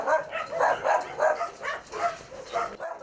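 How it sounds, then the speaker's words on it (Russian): Many dogs at a large shelter yip and bark in repeated overlapping bursts, a crowded, fairly close chorus of short calls with some whimpering mixed in. "Сейчас в Ласке примерно 600 собак."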